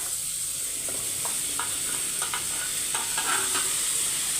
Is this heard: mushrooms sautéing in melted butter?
yes